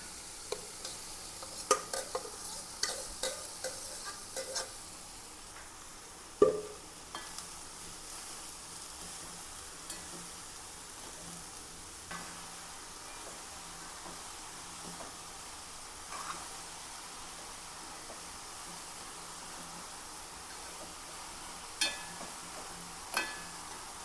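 Shrimp and chopped ridge gourd fry in a pan with a soft, continuous sizzle and occasional stirring clinks and scrapes, fairly quiet and close, with no voices.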